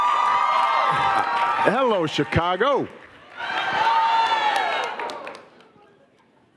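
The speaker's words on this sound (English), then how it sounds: "keep clapping, right? We could do that a little while longer." An audience at the closing session of the Obama Foundation Summit in Chicago claps and cheers in a loud, sustained roar. A voice speaks over a brief lull before the cheering swells again and then fades out.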